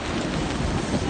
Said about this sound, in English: This is a combination of mist and rain.